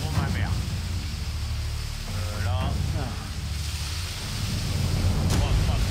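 Storm wind of 47 knots with hail at sea in rough conditions aboard a racing sailboat, a loud continuous roaring rush with surging gusts, and a voice calling out briefly over it.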